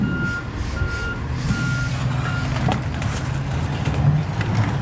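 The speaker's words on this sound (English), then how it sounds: "Just in time for the trash truck." A garbage truck reversing sounds a series of evenly spaced electronic beeps over a steady engine rumble, moderately distant outdoors.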